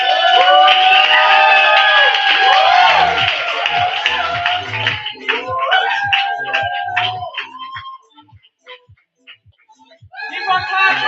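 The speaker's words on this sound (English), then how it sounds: "Keep on clapping." A crowd at an open mic and poetry club showcase claps and cheers loudly for a poet, in a dense burst that thins into scattered claps before swelling again near the end.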